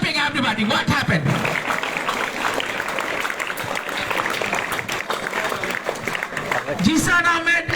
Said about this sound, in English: please go clapping everybody